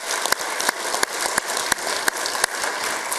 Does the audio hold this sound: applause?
yes